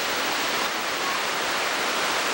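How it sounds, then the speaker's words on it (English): A raging river rushing beneath a bridge, a dense, constant roar of churning whitewater, loud and unbroken with no voices. "This is more video footage of the raging river that we're on."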